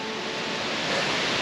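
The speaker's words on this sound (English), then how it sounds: "We can't get over how epically big this waterfall is." Wallaman Falls, a huge waterfall in Australia, roars as a steady, dense rush of falling water, loud and unbroken, with no talking over it.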